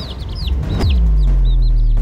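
A mother hen clucks repeatedly in quick, chirpy bursts, close and fairly loud, with a low steady drone underneath in the second half.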